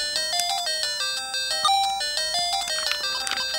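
Chiptune-style video game music from a GB Boy handheld console, steady beeping square-wave melody over a faint background hum, moderately loud and close, with no talking.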